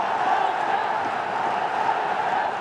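Stadium crowd at a Bangladesh vs Pakistan T20 cricket match keeps up a steady, dense roar of cheering after two sixes, broad and continuous across the stands without a break.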